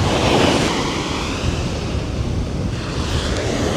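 Ocean waves wash onto a Hawaiian beach, a loud, continuous roar of surf mixed with gusting wind buffeting the microphone, close by and with no voices.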